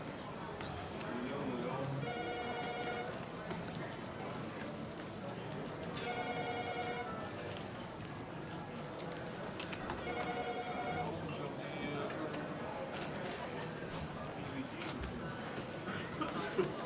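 A telephone rings in repeated bursts about four seconds apart at a live poker tournament, partly buried under steady commentary and background chatter.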